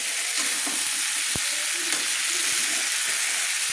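Diced pumpkin and potatoes stir-fry with spices in a hot pan, giving a steady, close sizzle with soft scraping from stirring and one sharp knock midway; no voices.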